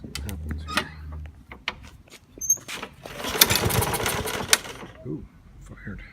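A cheap lawn mower's small engine sputters and briefly fires after a shot of throttle body cleaner, a rough burst of combustion noise after several clicks and pulls, with someone talking nearby.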